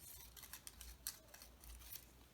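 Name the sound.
scissors cutting thick paper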